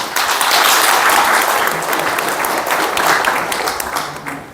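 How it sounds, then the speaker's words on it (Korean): Loud, sustained audience applause fills a book launch event hall, dense clapping from a large crowd that swells and then slowly tapers off. "다시 한번 큰 박수 부탁드립니다"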